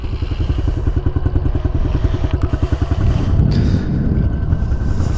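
A 2015 Honda CRF 110 dirt bike engine idles in neutral, a loud, close, steady low thumping putter with a faster rhythmic pulse early on, joined by gusty wind noise partway through.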